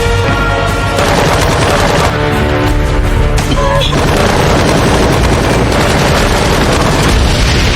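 Sustained, dense gunfire aimed at drones in an action film, loud and continuous rapid shots over a booming score with blasts mixed in throughout.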